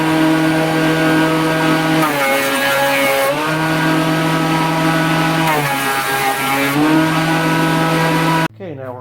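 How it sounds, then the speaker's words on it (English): A woodworking thickness planer runs with a loud, steady motor drone, its pitch dipping and recovering a couple of times as it works, then cutting off abruptly near the end. "So let's get the planer fired up."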